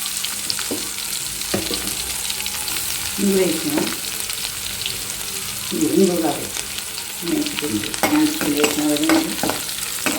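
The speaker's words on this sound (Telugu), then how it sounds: "ఇప్పుడు మనం ఈ పోపుని చట్నీలో యాడ్ చేసేసుకున్నాం" A tempering of asafoetida and crushed raw garlic sizzles in hot oil for a mango pickle, with a steady crackling fry, clinks of stirring and short bursts of a voice in between.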